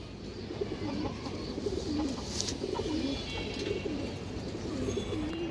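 A female silver big-headed pigeon coos in a repeated low rolling rhythm, close by against a steady background hum.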